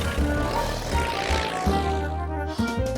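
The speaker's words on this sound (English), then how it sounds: "But today, he decided to fly in my toy plane." A cartoon toy plane flies past with a droning propeller-like engine hum, steady and fairly loud, mixed with bright musical tones and sound effects.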